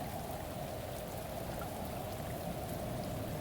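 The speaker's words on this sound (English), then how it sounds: "Wow, the rain is picking up." Heavy rain pours steadily in the video game Shadows of Doubt, a dense, continuous hiss and patter at constant loudness with no talking.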